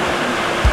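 Creek water rushes steadily in the Bear Creek Preserve woods, a close, loud, broadband flow with a brief low thump near the end and no voices.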